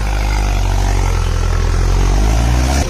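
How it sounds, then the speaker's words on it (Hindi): Mahindra 575 DI XP Plus tractor engine running steadily during break-in, a loud continuous low rumble that stays even, then cuts off near the end. "तो भाइयों हमारे हरजीत भैया ट्रैक्टर रवा कर रहे हैं।"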